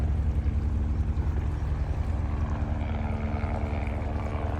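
A helicopter surveying floodwaters along the Ping River drones steadily overhead, a constant loud low rotor and engine hum that holds for the whole stretch without talk.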